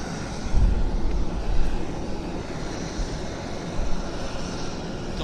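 An Air Canada airliner at Vancouver Airport gives off a steady, distant jet roar, a broad rumble with slight swells that holds through the whole stretch without any voices.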